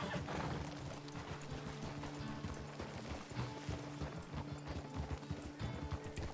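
Horse hooves clip-clop steadily on a trail in RedM, a Red Dead-style roleplay game, in a rapid, even rhythm that stays close and fairly quiet throughout, with no talking.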